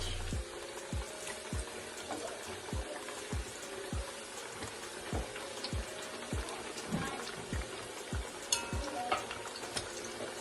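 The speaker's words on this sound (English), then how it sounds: "Fry up some breadfruit." Breadfruit fries in a hot pan with a steady crackling sizzle, punctuated by regular low thumps and scattered sharp pops, with no talk.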